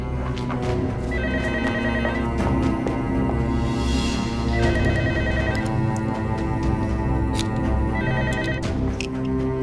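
A telephone bell rings in repeated bursts over a dense, busy background of music and noise, the ringing steady and fairly prominent throughout.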